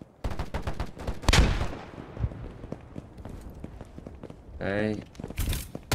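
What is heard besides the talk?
gunfire in the video game DayZ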